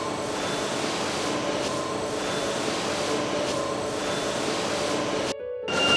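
A CNC lathe machines the steps, flats and retaining ring groove of a ball screw lead screw: a steady, dense mechanical hum and whir with faint tonal whines, continuous and moderately loud, briefly dipping near the end.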